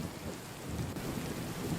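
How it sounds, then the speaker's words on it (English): Heavy thunderstorm rain pours in a steady, loud, dense roar with a low rumbling underneath, continuous throughout with no voices. "I understood why I like the sound of the storm."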